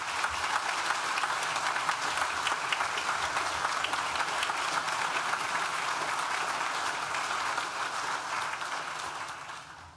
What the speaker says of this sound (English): Please join with me now in thanking them with a well-deserved round of applause.